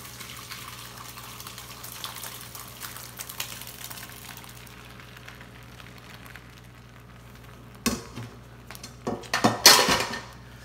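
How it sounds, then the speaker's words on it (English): Beef and bacon chili scraped and poured from a pan into a lined crock pot, a quiet stretch giving way to loud metallic clanks, scrapes and a wet glopping burst near the end, close by. "we're gonna put it in the crock pot"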